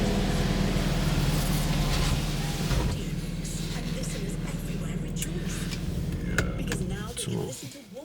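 A BMW F83 M4 Convertible's power-operated roof closes steadily, a continuous motorized whir and hum with clicks and latching clunks near the end, recorded close by with faint background voices.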